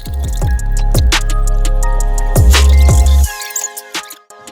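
Water splashes and pours during bathing at a tap, with wet splashes and a sustained gush that stops suddenly, followed by a few quieter drips and bumps.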